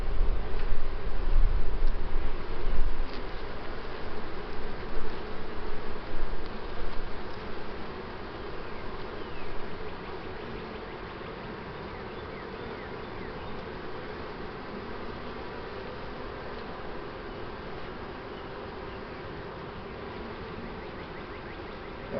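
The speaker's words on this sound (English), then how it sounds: "There are some unhappy bees around me right now." Agitated honeybees swarm around an open beehive, their dense buzzing loud and close at first, then settling into a steadier, slightly quieter drone.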